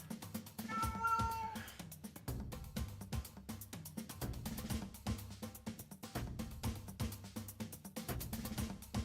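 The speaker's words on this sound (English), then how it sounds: "My cat would not be quiet." A house cat lets out a single drawn-out meow near the start, close but fairly soft, over a steady beat of music that continues to the end.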